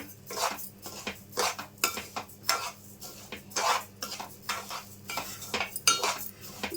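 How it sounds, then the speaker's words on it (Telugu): Wheat semolina roasting in ghee in a pan, a spoon scraping and knocking against the metal in an uneven, repeated stirring rhythm, close and fairly loud, with no talk. "రవ్వ బాగా మంచి కలర్ వచ్చేంత వరకు వేయించుకోవాలండి నెయ్యిలో"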